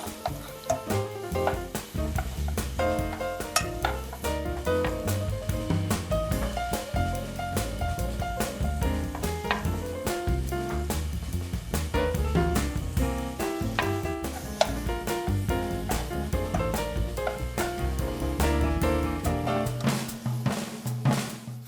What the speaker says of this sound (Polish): trzeba pamiętać, aby co chwilę pomieszać, aby się mięso nie spaliło